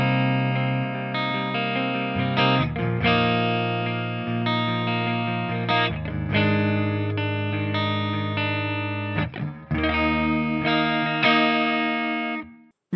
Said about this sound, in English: we'll start off with a clean sound. There's no coil splitting or anything, so it's just the 3 positions: neck, both, and bridge